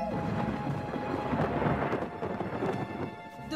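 Thunder rumbling through a thunderstorm near trees, a loud, continuous low roll with rain hiss underneath, heard alone without talking.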